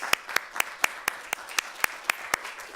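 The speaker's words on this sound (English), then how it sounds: "Give everybody a round of applause" A small group claps at a launch event for international education and development partners, a thin round of applause with evenly spaced, crisp claps standing out over a soft background patter.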